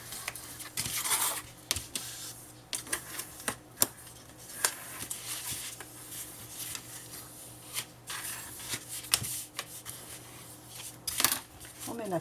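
Paper is creased and folded for a scrapbook accordion mini album, with crisp rustles, scrapes and soft taps coming in irregular bursts close by, while someone talks quietly throughout.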